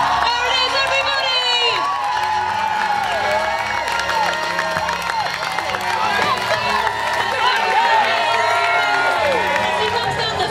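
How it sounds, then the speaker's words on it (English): A crowd cheers, shouts and claps steadily throughout as the Olympic torch arrives at Lloyds Service Centre in Andover, with children's voices mixed in and the loud crowd noise sustained. "Clap, cheer, shout! For James MacDonald!"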